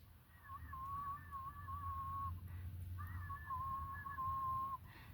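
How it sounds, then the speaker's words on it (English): A person produces a quiet, wavering throat whistle as a self-soothing stim, sounding in two sustained, gently fluctuating tones with a short break between them, close and alone over a faint low hum. "just like whistle with the back of my throat, which is really weird"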